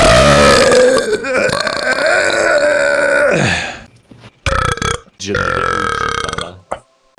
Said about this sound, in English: here comes another burp.